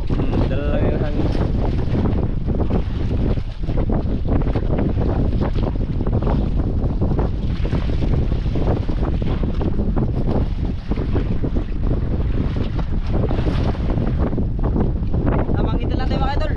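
Strong wind buffets the microphone during a fishing trip, probably out on the water. It makes a constant, loud, rough roar with gusty surges from start to finish.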